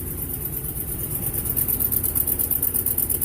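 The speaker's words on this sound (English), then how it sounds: "You hear that chugging a little bit." A car engine idles close by with an uneven, chugging pulse that grows more pronounced in the second half. The car is leaking coolant.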